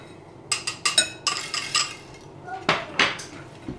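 Wire whisk clinking against a mixing bowl as cocoa is stirred into dry cookie ingredients, a quick run of bright metallic taps followed by a pause and a few sharper scraping strikes, close and fairly soft.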